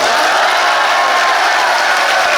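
An audience at a book concert and publication celebration gives a loud, sustained round of applause, a thick continuous patter of many hands clapping close to the microphone with crowd noise underneath.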